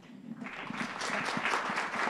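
A conference panel audience applauds, scattered claps quickly building into steady, sustained clapping that fills the room.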